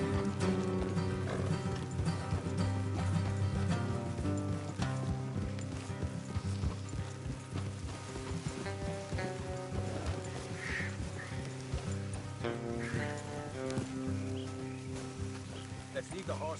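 Horses galloping in Red Dead Redemption 2, a steady rhythmic clip-clop of hooves running under constant game music and ambience, with voices talking over it.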